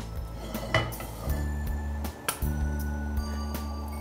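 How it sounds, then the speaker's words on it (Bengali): A frying pan with a little oil is tilted and moved on the stove, giving soft metallic knocks, clinks and scrapes over a low steady hum, quiet with no speech. "ফ্রাই প্যানটাকে ভালো মতো তেলটা যাতে ছড়িয়ে যায় একটু নেড়ে নিই।"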